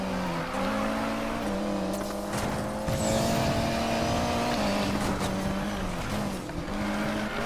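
Maxed-out Mitsubishi Evo racing against Lamborghinis in Need For Speed: Payback, its engine droning steadily with shifting pitch and brief tire squeal, loud and continuous over game music, with no talking.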